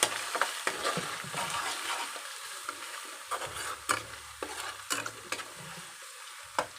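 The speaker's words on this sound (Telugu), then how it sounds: "ఇలా ఫ్రై చేసుకోవాలి" Okra curry ingredients with turmeric sizzling in a pan while a spoon stirs them, giving steady frying hiss with repeated scraping and clinking strokes, close and moderately loud.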